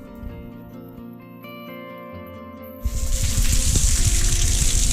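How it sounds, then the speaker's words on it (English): A hose rinses water across a concrete garage floor being prepared for epoxy coating; after a low humming start, a loud steady gush of spraying water begins nearly three seconds in and continues to the end. "I'm gonna do a quick rinse with water"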